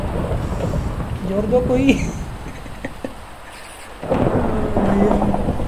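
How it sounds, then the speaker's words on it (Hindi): Thunderstorm in Minecraft, with thunder rumbling and rain hissing steadily throughout, while someone talks over it in places. "बिजली कड़क रही है"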